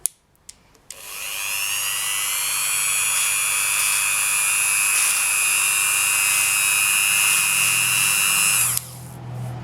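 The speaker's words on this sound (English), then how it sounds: "Then take your buffing wheel." A small rotary buffing wheel spins up after a few clicks and whines steadily at high pitch, polishing a hollow polymer clay bead with a faux metal finish, then winds down abruptly near the end.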